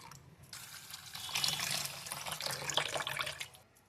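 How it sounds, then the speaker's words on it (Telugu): Water is poured steadily into a bowl of washed ragi grains, a continuous gentle splashing stream lasting a few seconds, fairly quiet and with no voices. "నీళ్ళను పోసుకోవాలి"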